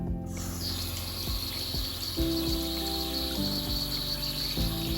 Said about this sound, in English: Turn the water down.